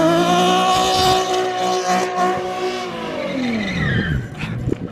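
Nissan 350Z Nismo engine revving hard with a dropped clutch, tires squealing and skidding loudly throughout, the engine pitch sweeping down near the end.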